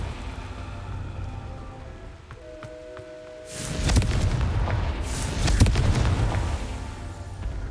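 A Confringo blasting spell fired in Hogwarts Legacy lands as a loud, broad explosive burst followed by a second swelling blast, rumbling heavily over a quieter ambient backdrop.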